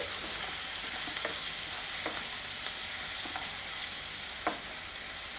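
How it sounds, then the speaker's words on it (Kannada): Onion, salt, turmeric powder and green chili frying in a pan, a steady close sizzle with a few soft stirring scrapes and small clicks throughout. "ಉಪ್ಪು ನೀರುಳ್ಳಿ ಅರಿಶಿನ ಪುಡಿ ಹಸಿಮೆಣ್ಸಿನ್ಕಾಯಿ ಬೇಯ್ತಾ ಇದೆ"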